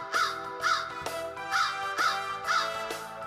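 A crow caws repeatedly, about five or six harsh calls spaced roughly half a second apart, fairly close and clear against a quiet background with no talk.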